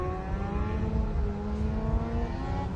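A two-wheel-drive saloon race car at a 2012 Scottish sports and saloon car meeting accelerates up a hill, its engine holding a strong, steady, rising tone with no voices over it.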